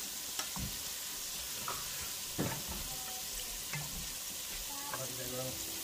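Shrimp fry in oil in a home kitchen with a steady, faint sizzle. A few soft clinks and stirring sounds come through it, and talk is barely heard in the background.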